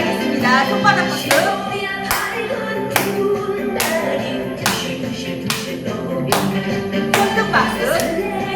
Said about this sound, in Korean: 손바닥 박수.